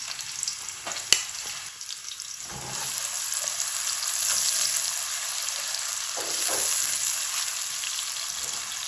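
Steady sizzling and crackling of onions frying in hot oil, with a brief stir or clatter near the start and the hiss swelling midway.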